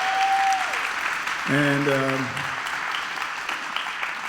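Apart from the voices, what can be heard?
audience applause for a guest speaker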